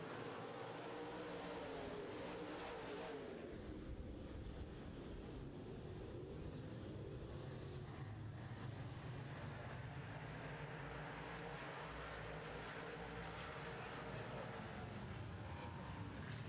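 Big FM Modified race cars speed around a racetrack during a feature race, making a continuous, heavy engine roar and rumble that stays loud and steady throughout, heard from the track area.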